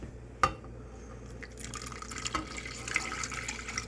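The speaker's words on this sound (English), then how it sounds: "Now, what you do is you add 2 cups of milk to this and stir it up." Milk pours into a bowl of sugar, cornstarch and salt, a soft, close liquid splash and trickle with a sharp clink of utensil against the bowl near the start and quieter knocks later.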